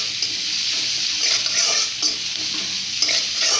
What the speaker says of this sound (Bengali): এখন আমি একটু ভাজবো